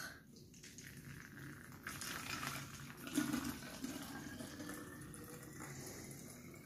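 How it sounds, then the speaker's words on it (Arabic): Water running into a spray bottle, a soft trickling fill that swells and gurgles faintly over several seconds in a quiet room. "راح عبي البخاخ"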